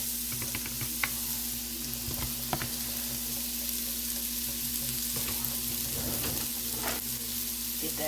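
Mushrooms and spinach fry in butter in a pan, giving a steady close sizzle with occasional stirring clinks and scrapes and a faint background hum.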